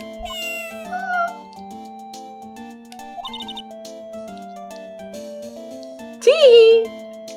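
Cartoonish cat meows from the Phoenix Wright Ace Attorney video game ring out over looping background music and chime-like effects, with a louder, drawn-out meow near the end.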